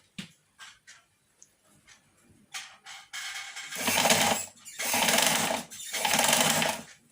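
A sewing machine stitching elastic onto fabric runs in short stop-start bursts, then in three longer, loud, steady whirring runs close by.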